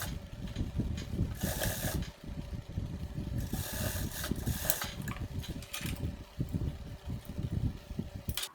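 A straight-stitch sewing machine runs a seam along the edge of a corset top fabric, a steady motorized whir with rapid needle chatter, pausing briefly around the middle before continuing close and even.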